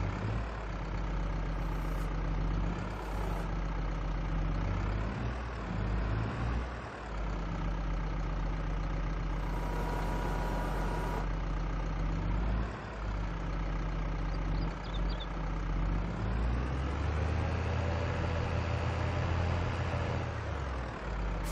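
A tractor engine runs in Farming Simulator 22, a continuous, fairly loud rumbling drone whose pitch rises and falls slightly as the machine works, with no speech.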